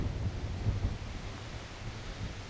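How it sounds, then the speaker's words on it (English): Steady wind roars and buffets the microphone in a graveyard, a broad rumbling rush with low thumps, continuous and fairly strong. "It is really windy."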